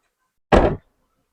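Rear door of a 2016 Ford EcoSport Titanium shuts with one solid, close thunk, short and sharp, with silence before and after.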